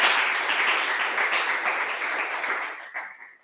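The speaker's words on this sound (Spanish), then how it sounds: "otro aplauso más para Jorge." An audience claps, loud and close, as a broadcast programme ends, then the clapping thins and fades out toward the end, leaving only a few last claps.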